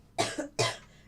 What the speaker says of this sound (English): I can't even laugh without then having like a coughing attack.